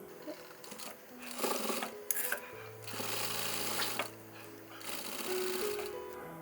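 Sewing machine stitching along a blouse neck edge, several short bursts of motor whir and needle chatter separated by brief pauses and fabric handling, fairly quiet and close.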